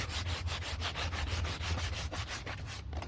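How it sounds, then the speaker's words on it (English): Sandpaper rubbed back and forth along a wooden cane dowel for a handmade Louisiana duck call, a close, rhythmic rasping of quick even strokes, steady and fairly loud, with no voices. "And then I take my sandpaper"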